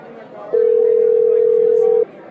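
A steady telephone dial tone holds for about a second and a half over faint room noise, then cuts off.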